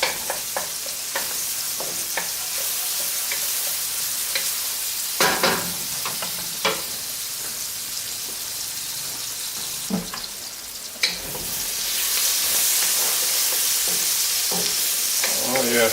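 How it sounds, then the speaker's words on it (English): Onions frying in a pan for kamote tops, a constant bright sizzle with intermittent scraping strokes of stirring, the hiss swelling louder toward the end. "Be sure to stir until the onions start caramelizing just a little bit,"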